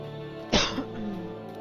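A single close cough bursts out abruptly, followed by a brief throat-clearing rasp, against quiet background hum.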